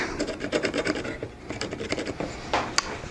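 A pencil or marking tool scratches a tenon layout line onto wood in a series of short, close rasping strokes, quiet and dry with brief gaps.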